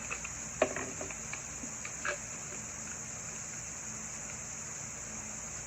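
A steady high-pitched chorus of large crickets chirps continuously, with a few faint taps and rustles nearby.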